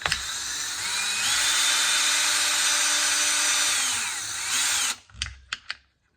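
A power tool removes the bolts from a Traxxas RC car with a close, high whirring whine that holds steady for about five seconds. It winds down and is followed by a few sharp clicks and taps.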